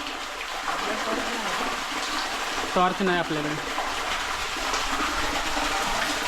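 Steady rushing water pours and splashes inside a cave at Mirgad Fort, with a voice speaking briefly over it partway through.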